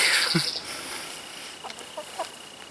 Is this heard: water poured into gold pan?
no